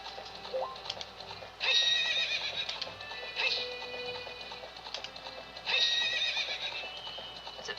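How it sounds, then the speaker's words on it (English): A horse neighs in the Ocarina of Time SpaceWorld '97 beta game, loud whinnies repeating at regular intervals over a steady backdrop of game sounds, with no talking. "I am back at Ganondorf's horse"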